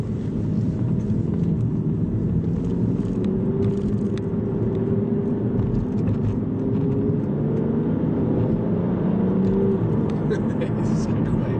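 An Aston Martin Virage on a test drive, its engine a steady low rumble with a gradual pitch rise under acceleration, heard from inside the car with voices talking over it throughout.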